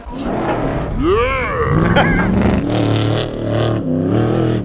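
A modified Ford Ranger truck engine revs hard and close as the throttle is worked in swells and dips on a pass, with the pitch sweeping up and down.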